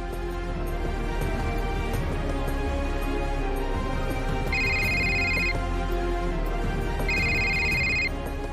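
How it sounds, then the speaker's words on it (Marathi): A telephone ringing in a Marathi thriller TV serial, two short bursts of electronic ringtone trilling over a steady, moderately loud background bed with no talk. "बाबाचा फोन असेल."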